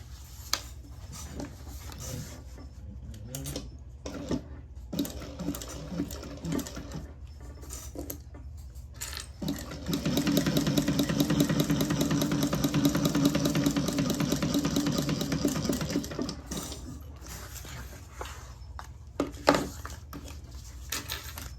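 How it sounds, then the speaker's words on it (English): A sewing machine runs steadily for about six seconds, stitching up and down the sides of a large fabric carry-all bag, with quieter handling noises before and after. "So I'm going to go sew up and down the sides."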